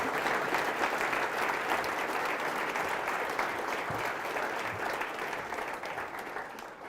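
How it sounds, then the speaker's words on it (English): An audience gives a big round of applause for a speaker, dense, steady clapping from many hands that holds for several seconds and fades slightly toward the end. "Everybody give them a big round of applause"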